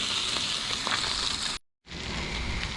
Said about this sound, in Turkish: Şimdi böyle güzel güzel kızartıyoruz.